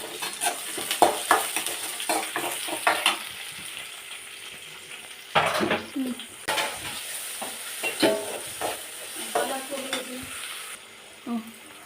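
Onion, dried red chillies and mustard seeds frying with a steady close sizzle in a pan, punctuated by irregular stirring scrapes and clinks of a spoon against the vessel.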